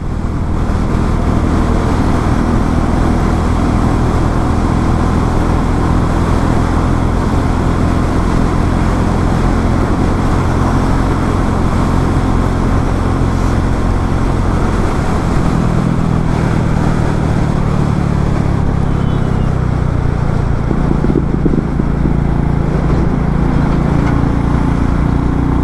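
A Royal Enfield Meteor 350 motorcycle on the move, its constant engine drone buried under heavy, unbroken wind rush throughout.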